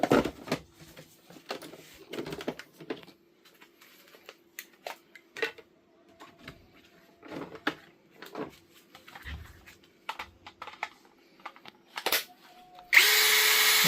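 An INGCO 42V cordless power drill is handled with scattered clicks and knocks over a faint steady motor hum, then bursts into a loud, sustained whir near the end.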